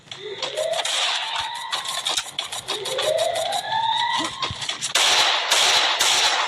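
Gunfire from the mobile battle-royale game Free Fire, rapid bursts of shots cutting through busy game audio with rising whooshing tones, loud and close, denser crackling near the end.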